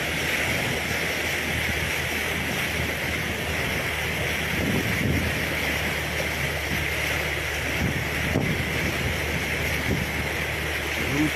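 Floodwater rushes through a flooded town in Aktobe in late March, making a continuous loud roar mixed with wind buffeting the microphone.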